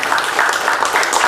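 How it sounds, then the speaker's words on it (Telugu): A spiritual gathering's audience claps loudly, a dense, continuous burst of many hands at close range with no voices over it. "గట్టిగా చప్పట్లు కొడదాం."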